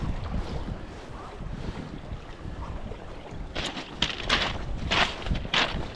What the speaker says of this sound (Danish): nu går vinden ret kraftigt ind på mig her